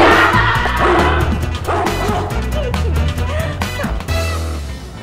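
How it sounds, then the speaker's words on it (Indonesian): A dog barks and yips repeatedly in quick, loud bursts, close by, over a dense bed of other sound with some voices mixed in. "Sejenis binatang menggonggong itu."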